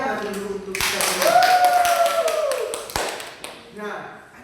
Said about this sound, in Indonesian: Beri tepuk tangan dulu untuk kita semua.